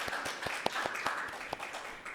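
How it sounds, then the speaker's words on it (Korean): A lecture audience at a Seoul National University academic event gives faint, scattered applause, a brief patter of individual claps that thins out within a couple of seconds. "박수 부탁드리겠습니다."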